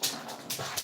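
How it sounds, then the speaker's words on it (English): A pet dog makes short whimpering or whining sounds in a quiet room, with a few brief soft vocal bursts close by. "That's my dog."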